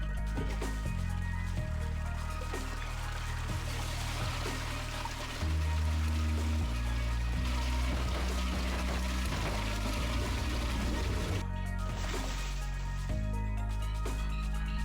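Water rushes and pours continuously in a video game toilet flush, a steady loud stream with tonal game music running underneath throughout.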